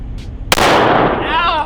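A single sharp, loud pistol shot from a Glock 48 fired offhand at close range, followed by a ringing echoing tail as the blast fades.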